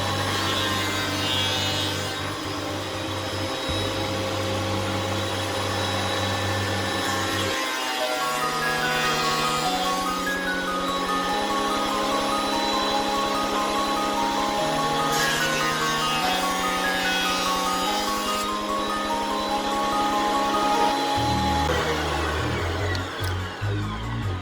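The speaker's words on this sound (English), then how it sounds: "Now let's move on to the planer." A thickness planer feeds a wooden board through, its motor whining with a steady hum that drops and shifts in pitch as the cutter bites the wood, then rises again as the board clears, loud and close with no talk.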